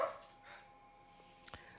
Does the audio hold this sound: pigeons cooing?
no